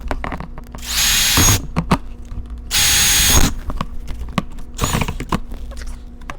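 A power drill bores holes in compost bins in three loud bursts of whining, each roughly half a second to a second long, with handling clatter and rustling between them.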